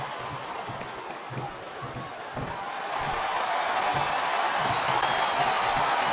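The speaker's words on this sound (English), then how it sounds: "This capacity crowd is making their opinions known tonight." Arena crowd noise at a wrestling event in the video game WWE SmackDown vs Raw 2007, a steady roar of a capacity crowd that swells louder midway, with faint rhythmic thumps and a commentator's voice underneath.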